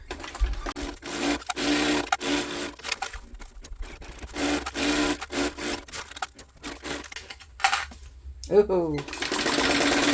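A sewing machine stitches the lining of a basic tote bag at a 3/8-inch seam, running in bursts of rapid, rattling needle strokes with short stops between, while someone speaks briefly.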